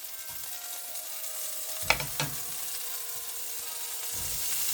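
Onions sizzle softly in olive oil for a Caribbean chicken and squash stew, a steady low hiss with a couple of brief clatters from the pan or utensil midway.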